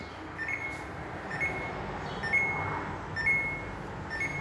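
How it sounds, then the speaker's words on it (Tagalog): An inverter refrigerator's alarm beeping during a repair of a freezer with evaporator ice build-up, giving short high-pitched beeps about once a second over a steady background hum. "Ayan, nag-alarm."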